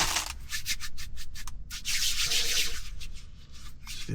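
Hands rub together briskly, working in hand sanitizer, producing a close, continuous swishing friction with small rhythmic pulses and no talking.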